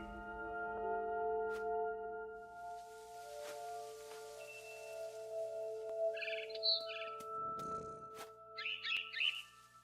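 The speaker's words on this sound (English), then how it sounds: "Then I heard chirping outside my window. It was a barn swallow going back to her nest." Two short clusters of bright chirps from a barn swallow in the video game What Remains of Edith Finch ring out late, over a steady low ambient hum.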